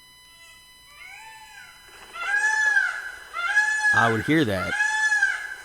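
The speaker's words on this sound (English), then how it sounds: "Here's the peacocks again." Peacocks shriek loudly from a roof just outside a window, with repeated wailing, rising and falling cries, the loudest ones near the end, while a person talks over them.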